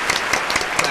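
A studio audience claps for a guest arriving on a Monday night talk show, steady close applause with sharp bursts of hand claps throughout.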